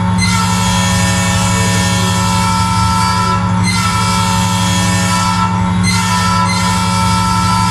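Freight train rolling on tracks in a Roblox train simulator game, loud and continuous, with a steady rumbling engine drone, wheel noise and a sustained horn-like tone throughout.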